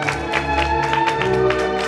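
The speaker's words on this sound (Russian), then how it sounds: "Давайте поддержим бурными аплодисментами." Applause from a crowd of guests at a wedding anniversary ceremony, a steady close wash of clapping that carries on without a break.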